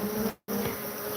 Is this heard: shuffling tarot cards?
no